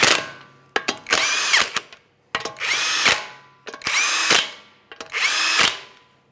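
A power tool zips lug nuts onto the front wheel of a 2009-2014 Nissan Maxima in a crisscross order. Four loud, close bursts each whine up in pitch, separated by short pauses.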